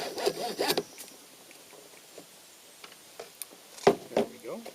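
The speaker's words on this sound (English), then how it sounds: "I'm going to do that with my hacksaw" A hacksaw cuts through a piece of broken fishing rod in short, scratchy rasping strokes close up. Bursts of cutting are separated by pauses and a few clicks.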